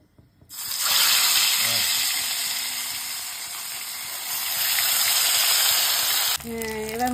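Chital fish, rubbed with salt and turmeric, fries in hot oil in a wok. A loud, continuous sizzle starts suddenly, rises and dips a little, then is cut short by a brief different sound at the end.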